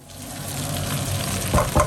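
A vegan eggplant and potato stew cooks in a pot with a close, steady bubbling sizzle, ending in two sharp knocks as a lid or spoon strikes the pot.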